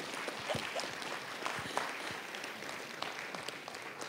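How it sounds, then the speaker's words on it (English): An audience at a Montgomery youth event applauds steadily, a dense wash of many hands clapping at moderate distance without pause. "Let's give him a round of applause."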